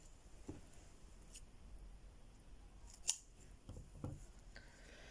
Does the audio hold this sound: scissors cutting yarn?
yes